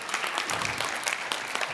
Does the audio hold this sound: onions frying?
no